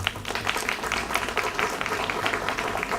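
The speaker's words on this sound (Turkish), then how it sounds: "Onlara da bir kocaman alkış istiyorum efendim" An audience applauds at a Habitat Association opening event in Bornova, a steady wash of clapping running through without a break.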